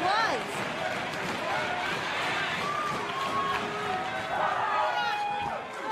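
A wrestling arena crowd at an NXT women's championship match chants and applauds in a sustained roar beneath close commentary voices talking over it.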